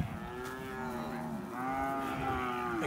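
Brahman cows on a South Texas ranch moo in drawn-out, wavering calls, two or three overlapping lows close by against a quiet outdoor background.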